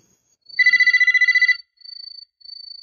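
A telephone rings in an anime episode, a loud trilling electronic ring lasting about a second, followed by two shorter, quieter ring bursts, with no talking.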